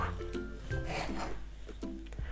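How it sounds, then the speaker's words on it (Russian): Small pickled cucumbers are rubbed against a kitchen grater in short, quiet, rasping strokes, several in quick succession, close and faint. "Огурцы натираю на терке."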